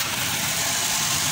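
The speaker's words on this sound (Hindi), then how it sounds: "देख सकते हैं आप सब, स्टार्ट है गाड़ी हमारी" A Honda City engine idling after a tuning job, heard as a steady, broadband running drone with constant loudness and no voices over it.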